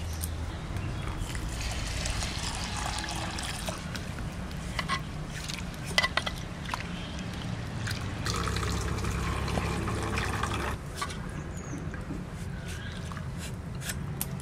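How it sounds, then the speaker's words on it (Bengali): Masoor lentils being washed in water in a home kitchen, with continuous soft sloshing and swirling, occasional clinks against the bowl, close and moderately quiet, no talking. "ডালটা পরিষ্কার করে ধুয়ে নেব।"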